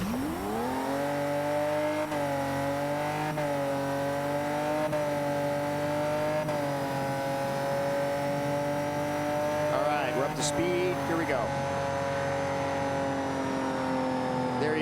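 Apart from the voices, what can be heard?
race car engine straining through a turn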